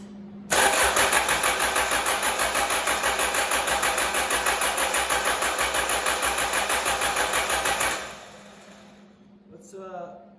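A Mazda RF 2.0 diesel engine, a low-mileage unit, cranking hard without catching: a loud, rapid rhythmic starter churn lasting about seven seconds, then a sudden stop leaving a quiet hiss and a brief voice.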